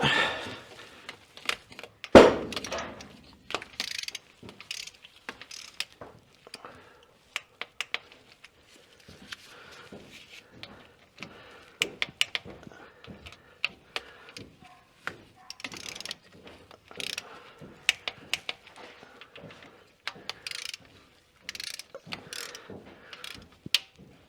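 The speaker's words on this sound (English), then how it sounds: "Okay, so here we go, torquing." A ratchet-type torque wrench clicks in short bursts while cam bolts are tightened on an LS L96 V8 engine, crisp close ratcheting with pauses between strokes and a sharp clunk early on.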